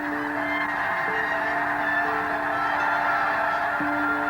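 Geese honking on the coast at Wrangell, a steady chorus of many birds calling continuously in the distance with overlapping repeated honks.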